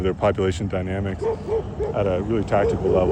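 Several dogs bark and yip outdoors in Kuwait, repeated sharp barks and a whimper close by, with someone talking over them throughout.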